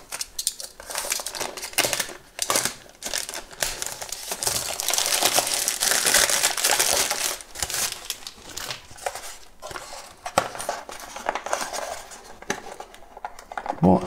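A knife cuts and tears open a big cardboard box, giving close, busy scraping, ripping and crinkling noises that continue throughout, with a voice talking at times.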